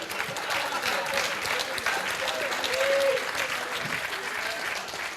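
Audience at the EVE Online Fanfest 2009 convention panel bursting into sustained applause, a dense wash of clapping from a crowded hall lasting several seconds at steady loudness, with voices faintly mixed in.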